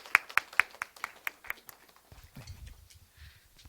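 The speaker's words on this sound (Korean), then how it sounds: "우리 하나님께 영광의 박수 올려드리도록 하겠습니다" A few people clap slowly after a prayer in a church youth service, about eight separate claps that fade out, followed by low murmuring.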